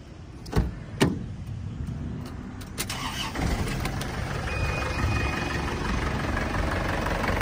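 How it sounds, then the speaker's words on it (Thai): Diesel idle of a 2003 Isuzu D-MAX Cab SLX with a 2.5 engine, a steady near rumble that fills the clip after a couple of sharp clunks near the start, with no talk over it. "เอามาฟังเสียงเครื่องนะครับ"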